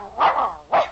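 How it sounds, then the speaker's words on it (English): A dog gives two short, sharp barks close up in an old-time radio advertisement for Gaines Meal dog food, with a brief pause between them. "Gainsey, the famous talking dog, always says, Gaines Meal"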